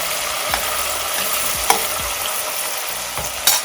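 Onion and tomato fry in a pan with a steady, close sizzle, with a few sharp spoon taps and scrapes against the pan scattered through it.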